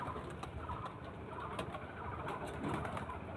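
Domestic pigeons kept at a home loft coo softly in a low, repeating murmur, fairly faint and steady, with no one speaking.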